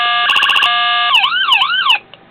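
A toy siren on a 1:24 scale Ford Crown Vic police car diecast cycles quickly through steady wailing, rapid yelping and sweeping phaser tones, with a blaring horn-like blast, loud and close, with no voices.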